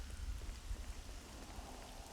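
Steady rain falls in the Devil May Cry 3 video game, a faint, even hiss of drops with no break and no voices.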